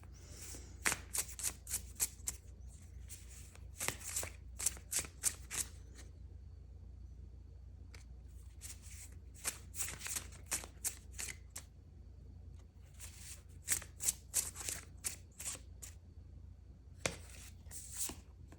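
Tarot cards shuffled close up in repeated bursts of crisp riffling and flapping, with short quiet pauses between the rounds.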